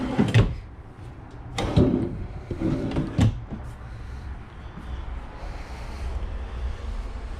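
A utensil drawer in a fifth-wheel camper kitchen slides and bumps shut a few times in quick succession, hollow knocks over a steady low background hum.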